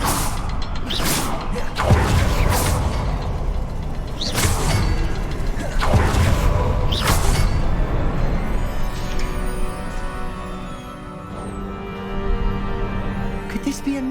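Confringo fire spell cast again and again in Hogwarts Legacy, each cast a loud whooshing blast with a booming impact, several bursts coming in quick succession over an ongoing game soundscape.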